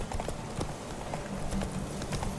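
Hooves clip-clop in a quick, rhythmic gallop as a horse runs in The Witcher 3, soft and steady with no talk over it.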